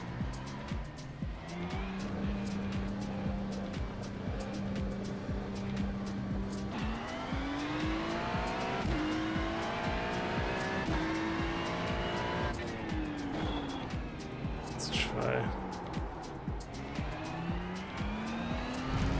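A Ferrari GT3 race car in a racing video game laps Fuji, its engine note loud and continuous as it climbs and drops through gear changes, with a brief squeal of tires near the end.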